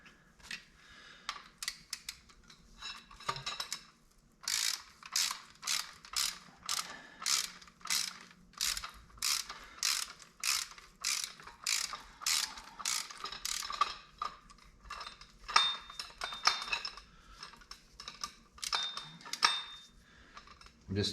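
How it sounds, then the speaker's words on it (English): A special tool and a socket are turned against each other to undo motorcycle fork parts on a 2006 KDX 200, giving a long series of close ratcheting clicks in uneven bursts with brief pauses, on the ground in a workshop. "I'm just twisting on both sides with my special tool and with my socket here"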